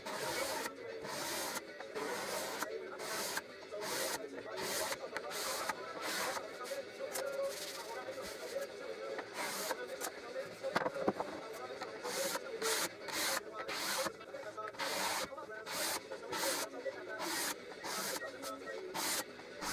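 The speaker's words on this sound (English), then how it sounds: "I decided to scrape off the old finish using a cabinet scraper" Rhythmic scraping strokes of a cabinet scraper removing old finish from a wooden chest of drawers, each a short rasping burst repeated steadily at close range, with a quiet voice now and then between strokes.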